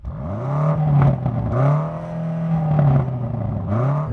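BMW M8 engine revving against its soft limiter at around 4,500 rpm at a drag race start, loud repeated rises and bouncing dips in pitch, several pulses close by with no talk.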